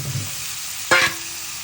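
Sweet pumpkin dropped into hot oil in a home kitchen pan, giving a sudden short burst of sizzling that settles into a steady low fry.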